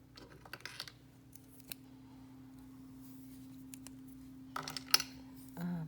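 An X-acto knife cuts into a sticker with faint, scratchy strokes that come in scattered clusters over a steady low background hum.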